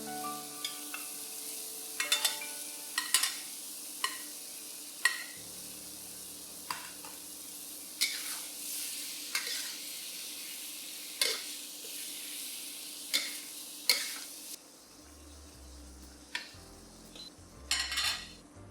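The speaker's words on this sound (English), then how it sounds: "When the tomatoes are cooked down, return the beef to the pan." Beef and tomatoes stir-frying in a pan: a steady sizzle runs throughout, punctuated by regular sharp clinks and scrapes of a utensil against the pan, with a low rumble near the end.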